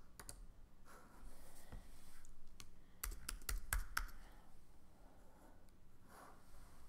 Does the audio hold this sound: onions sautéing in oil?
no